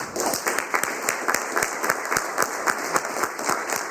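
A round of applause at a school board of trustees meeting, many people clapping in a steady, fairly loud patter with sharp individual claps standing out.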